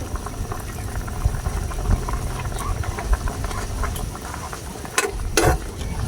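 Chicken with Sprite stirred in a frying pan, a steady rustling scrape and low bubbling sizzle throughout, with a couple of sharper clinks near the end.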